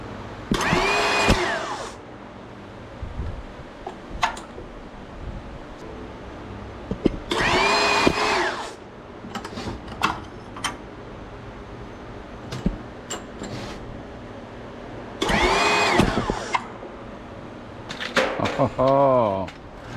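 A machine for cutting copper wire whirs up in three loud bursts of a few seconds each, with quieter clicks and handling noise between them.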